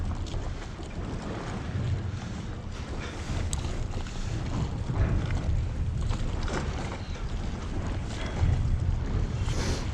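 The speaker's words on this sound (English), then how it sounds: "The wind's not actually too bad. It's not as strong as I thought it would be." Winter wind at sea buffets a small squid fishing boat, a constant rough roar with gusty low rumbles and wash of water, moderately loud and continuous, with no voices.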